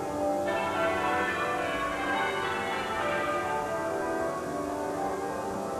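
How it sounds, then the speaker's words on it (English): The half-muffled bells of Westminster Abbey toll for Princess Diana's funeral procession, a dense, continuous wash of overlapping peals that is steady and moderately loud throughout, with no talk. "of the half-muffled bells of Westminster Abbey"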